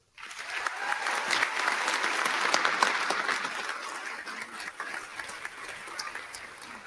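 An audience at a graduation commencement applauds to welcome a speaker, dense clapping that starts abruptly, swells to a peak, then eases slightly while continuing steadily.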